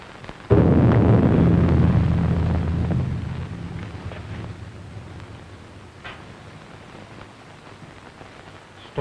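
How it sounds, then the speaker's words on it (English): A thunderstorm swells in a 1932 horror film: a sudden heavy roar of thunder and rain that slowly fades into a steady rushing storm, with no talking. "Storm is increasing."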